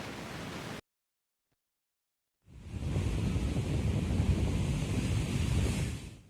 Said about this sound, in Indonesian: Sementara ombak masih tinggi menutupi pesisir pantai Camplung Singaraja.